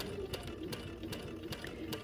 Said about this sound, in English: And I sew all the way off the corner